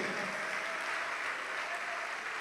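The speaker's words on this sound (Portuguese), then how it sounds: "Vamos aplaudir mais, igreja, vamos aplaudir mais" A church congregation applauding during a service, soft continuous clapping blended into a steady wash, fairly distant and low in level.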